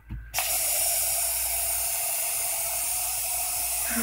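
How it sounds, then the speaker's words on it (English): After a brief rattle, a disinfectant aerosol can sprays in one long, continuous close hiss that holds steady for several seconds. "Disinfectant spray. Maybe this will weaken it."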